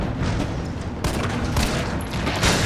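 Rapid pistol shots in the Resident Evil 3 video game, a dense volley of sharp cracks with several louder bursts standing out, close and loud, with no voice over them.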